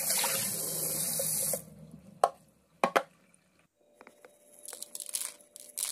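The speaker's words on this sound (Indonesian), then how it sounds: "Cuci bersih ya teman-teman. Kita bilas lagi yang satunya." Tap water runs steadily into a sink while raw liver is rinsed, then stops, followed by a few sharp knocks and scattered wet handling noises and drips close by.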